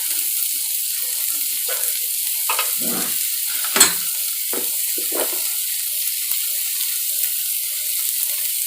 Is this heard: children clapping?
no